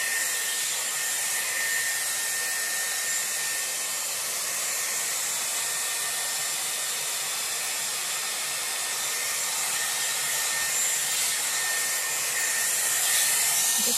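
Dyson Airwrap with a round brush attachment blow-drying long hair, a steady loud airy whoosh running throughout without pause.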